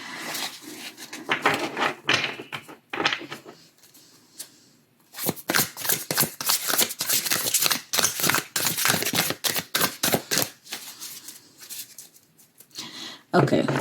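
Rapid riffling and snapping of a deck of cards being shuffled close up, in repeated bursts with brief pauses between them.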